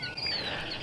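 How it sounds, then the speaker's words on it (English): A bird nesting in the roof of a garden pavilion gives faint, thin high chirps and squeaks, brief and irregular, heard from a short distance over quiet outdoor ambience. "So it is a bird that is in the roof."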